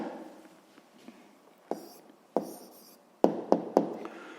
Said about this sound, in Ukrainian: записуємо тоді відповідь